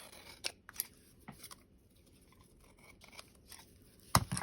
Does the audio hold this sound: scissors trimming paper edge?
yes